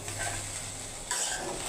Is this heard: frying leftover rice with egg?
yes